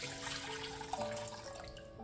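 Water pours into a container while mixing a homemade granite and marble cleaner, a faint, steady trickling stream running through the short moment.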